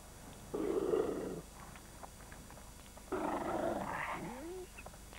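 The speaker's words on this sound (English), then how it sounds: "Another coyote hopes to share in the meal." Coyotes squabbling over a bison carcass in winter: two bursts of snarling, growling aggression a few seconds apart, the second ending in a rising yelp, moderately close over faint wind.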